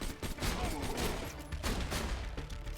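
Rapid bursts of enemy gunfire in Borderlands 2 crackle steadily through the clip, layered over dense game noise with a faint voice underneath.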